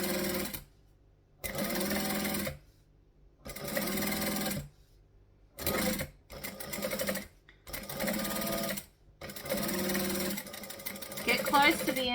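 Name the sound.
sewing machine stitching fabric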